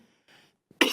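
A single sharp cough bursts out loudly at the end of a short, otherwise quiet moment, with faint breathy sounds before it.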